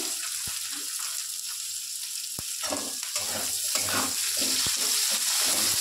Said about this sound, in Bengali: আমি নিয়েছি পেঁয়াজ কুচি, পেঁয়াজ কুচিটা দিয়ে দেবো।